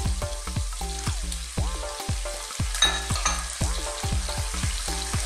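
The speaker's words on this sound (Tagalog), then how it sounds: "Again, stir. Haluin po natin a few minutes ulit." Sautéed onion and tomato are stirred in a pan, metal utensil scraping and clanking in a busy repeated rhythm over a continuous sizzle, close and fairly loud, with no voices.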